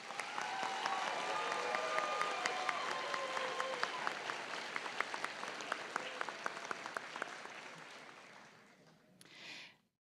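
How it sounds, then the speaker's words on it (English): Audience applause for nursing graduates at a spring pinning ceremony, a steady roar of many hands that thins into scattered claps and fades out near the end. "let's just give one more round of applause for all of these graduates"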